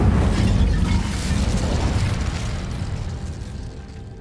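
A fiery burst from the Incendio spell cast in Hogwarts Legacy, a loud whooshing roar that starts strong and slowly fades over a few seconds, with no talking.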